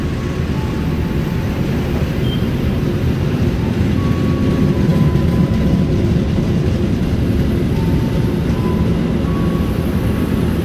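An Argo Lawu express train passes through Jatinegara station, a steady loud rumble of wheels and carriages filling the whole stretch with no pauses and no talk.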